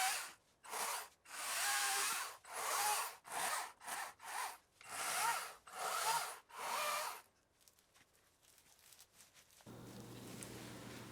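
An Ego 56-volt battery electric chainsaw cuts through wood in a series of short, even bursts with brief pauses between them, then falls quiet, leaving faint handling noise.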